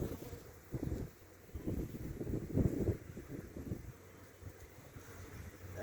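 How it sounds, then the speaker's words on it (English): Cold north wind blowing outdoors at a beekeeper's grafting site, a low, steady buffeting rumble across the mic with stronger gusts midway, no voices. "Got a cold north wind today, so I gotta not leave these out too long."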